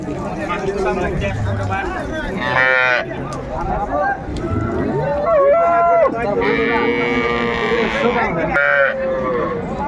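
Improved-breed dairy cows and calves at a cattle market in Jashore, several loud drawn-out moos and bleating calls close by, mixed with busy crowd chatter and people talking throughout.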